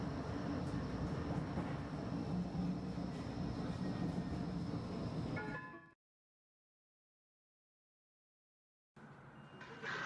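A tram ride in Blackpool: a low, steady rolling rumble of the tram on its rails for about six seconds, then a sudden break into silence before the rumble returns near the end.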